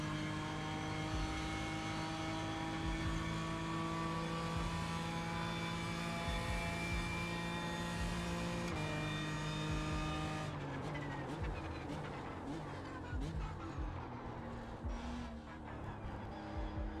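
A BMW M4 GT3 race car in a racing video game holds a steady, droning engine note, shifts partway through, then moves into a rougher, fluctuating roar with clicks and bumps.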